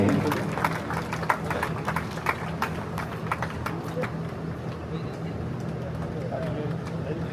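Audience clapping at a Gujarati felicitation ceremony for a 75th birthday celebration, a steady dense patter of many hands continuing throughout at moderate loudness, with a low background hum.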